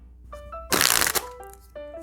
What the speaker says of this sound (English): let's give the deck a little bit of a shuffle